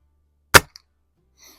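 A BSA Super Meteor air rifle fires a pellet at an outdoor range: one sharp, loud crack, a faint tick just after, then near silence with a soft trailing sound.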